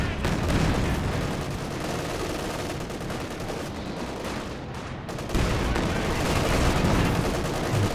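Calliope rocket artillery firing in Company of Heroes 2, a dense, continuous rattle of rockets and explosions mixed with gunfire, loud and sustained across the whole stretch with a brief dip before intensifying again.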